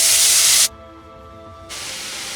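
Drumstick leaves and chopped onion hit hot oil for a ragi adai, giving a loud, bright sizzling hiss that cuts out briefly for about a second, then resumes slightly softer as frying continues, with no talking.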